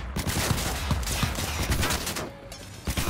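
A gunfire exchange in Cyberpunk 2077, dense rapid automatic bursts and single shots overlapping in a loud continuous fusillade, briefly thinning before resuming.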